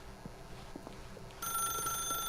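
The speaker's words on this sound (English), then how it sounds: "then pick up the phone" A telephone rings in The Stanley Parable video game, a bright electronic trill that starts partway through over a low, steady background hum.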